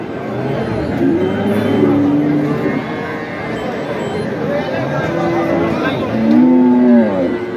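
Several dairy cows moo and low repeatedly amid a busy crowd at an outdoor cattle market in Thakurgaon, Bangladesh, with people talking throughout and the animals' calls rising over the chatter.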